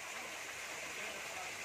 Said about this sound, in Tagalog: Yan na yung tubig na napupuno.